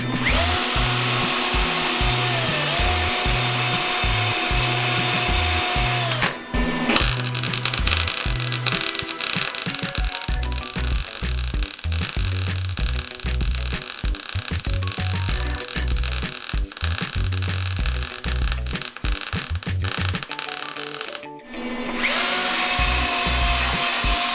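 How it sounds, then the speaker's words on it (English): Harsh, crackling buzz of tack welding short steel pieces runs steadily with short gaps, loud and close, broken by brief pauses between bursts; no talking. "we're gonna weld these short pieces here so that everything holds in place"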